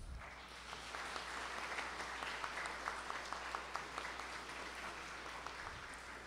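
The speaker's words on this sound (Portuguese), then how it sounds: "eu gostaria de uma salva de palmas para todas as mulheres" A crowd applauds steadily for all the women on their day, dense clapping from many hands sustained throughout at moderate distance, with a few sharper individual claps standing out.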